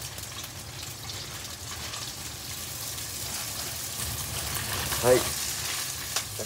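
Yakisoba noodles frying in a pan with green onion added first for aroma; a steady, moderately close sizzle hisses throughout, briefly under a short spoken word.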